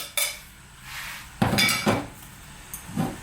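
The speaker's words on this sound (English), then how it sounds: "Let me grab my spoon." Metal cutlery clinks and taps a few times while a spoon is picked up in a home kitchen during chicken curry cooking, with sharp separate knocks and short quiet gaps between them.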